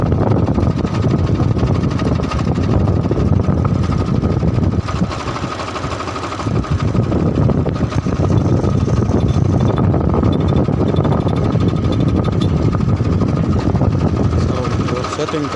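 A farm tractor engine runs steadily after starting in a village field, a loud continuous diesel rumble with a brief dip in the middle, voices faintly audible beneath it.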